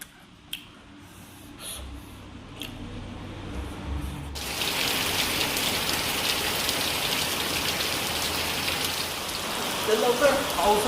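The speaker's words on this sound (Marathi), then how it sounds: "अरे पाऊस चालूच आहे" Rain begins partway through, rising from a quiet background to a steady, dense hiss of drops striking surfaces nearby. It stays loud and continuous to the end.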